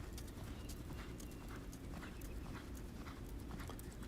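A young filly's hooves clip-clop steadily and continuously during a horse training session, close by and fairly loud, with no talking.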